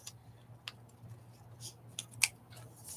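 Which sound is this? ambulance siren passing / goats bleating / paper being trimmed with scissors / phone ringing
paper being trimmed with scissors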